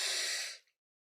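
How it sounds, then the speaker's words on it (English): A single deep inhalation, close and fairly loud, drawn steadily for about half a second before fading into silence, with no talking over it. "Take a deep breath"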